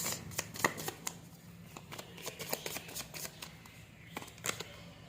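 Tarot cards being shuffled by hand, a run of crisp riffling and slapping bursts in an uneven rhythm, close and fairly quiet, with no talking.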